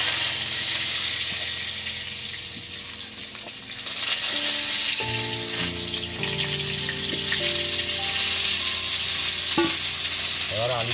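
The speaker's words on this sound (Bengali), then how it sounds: "এবার আলুটাকে এই তেলের মধ্যে একটু নেড়ে চেড়ে নেব" Potatoes sizzle loudly in hot oil for a mutton curry and grow louder as they are added and stirred, with utensil scrapes and clinks against the pot up close and no talking.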